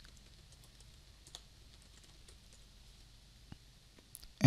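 Soft keystrokes on a computer keyboard as code is typed, a quiet, sparse patter of clicks with a few sharper taps and a louder click at the end.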